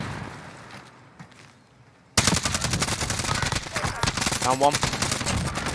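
Gunfire from an AN-94 or MAC-10 in a video game breaks out abruptly after a quiet stretch, continuing as dense, rapid bursts at close range while a player speaks briefly.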